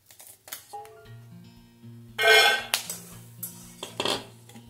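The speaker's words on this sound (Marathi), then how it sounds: "हे बघा, दाणे भाजते।" Peanuts roast in a pan, giving scattered metallic clinks and rattles of utensil against cookware in irregular bursts over a faint low hum, with no voices.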